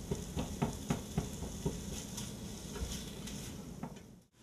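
Sausage browns in a pot with a soft, continuous sizzle and a series of light knocks from a utensil stirring, fairly faint and close, fading out at the end.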